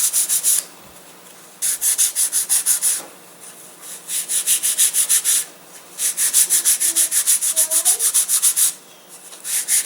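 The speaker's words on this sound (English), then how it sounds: "You want to sand really out towards the edges is where you want to really thin it down." Sandpaper rubs a balsa wood catapult glider wing in loud, close bursts of rapid back-and-forth strokes, each run of rhythmic scraping separated by short pauses, with no talking.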